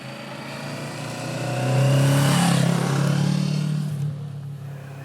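A 2020 Kawasaki Z650 motorcycle engine pulls hard from 40 to 90 kph on a wet road without a gear change, its steady mid-pitched drone swelling loudly through the middle of the run and then easing slightly, with no talking.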